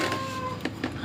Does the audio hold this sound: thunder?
no